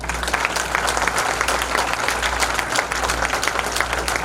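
An audience applauds at a government student scholarship and principal felicitation function, with broad, continuous clapping from many hands, loud and steady throughout.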